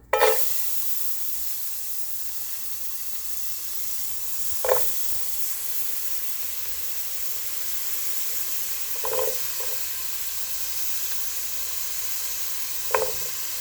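Ingredients for a Mediterranean tortellini salad cooking down in a hot pan, giving a steady soft sizzle and hiss with a few sharp clatters of the pan or utensil spaced through it.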